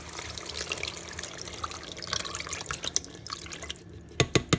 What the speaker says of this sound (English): We're just going to pour it right over the top of this.